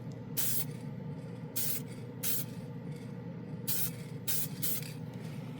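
Glidden Max-Flex spray paint hisses from the can onto a plastic model aircraft in six short bursts over a low steady room hum, close and fairly quiet, with no talking.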